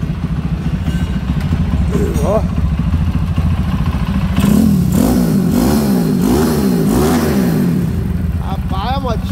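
A tuned Honda Biz 190cc motorcycle engine idles roughly, then revs up and down sharply several times with a clattery, buzzing pitch swinging rapidly, close to the microphone, with a voice briefly over it.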